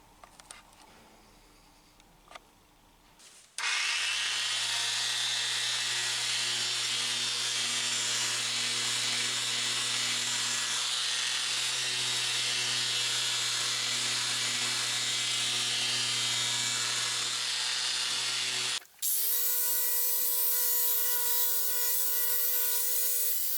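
A power sander with 240 grit abrasive runs against a curb-rashed alloy wheel rim from a BMW Z4 Coupe, a loud steady whirring grind with a low motor hum lasting about fifteen seconds, starting abruptly and cutting off before a brief restart.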